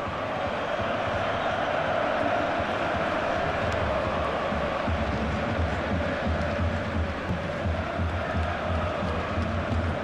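A stadium crowd at a UEFA Europa League knockout match in FIFA 15 keeps up a steady, dense roar throughout, with no distinct peaks.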